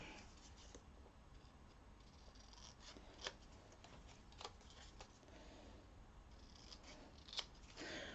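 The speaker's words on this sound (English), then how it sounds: "what I might do is snip a little bit off" Scissors snip through paper while a micro mini album page is trimmed and matted, soft cutting noises running steadily with a few sharper close clicks, no talking.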